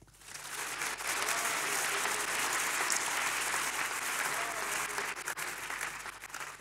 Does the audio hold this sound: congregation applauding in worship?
yes